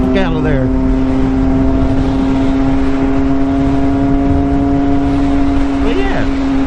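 A Triumph Daytona 765 Moto2 Edition motorcycle engine holds a steady, loud high-pitched drone throughout, with brief pitch sweeps near the start and again near the end, heard close from the rider's position with wind rush.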